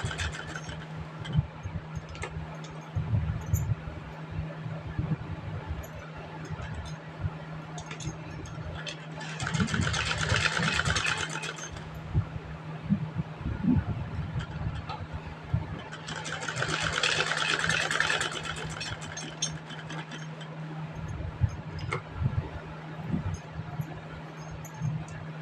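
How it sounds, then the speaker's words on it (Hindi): A sewing machine stitches a double seam on a kurti. A steady motor hum runs throughout, with two louder runs of fast stitching partway through. "ध्यान रहे कुर्ती पर हमने डबल सिलाई लगानी है"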